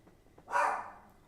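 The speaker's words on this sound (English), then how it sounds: "My dogs are barking." A dog's single bark rings out alone in a home, a short, fairly loud burst, with no talking.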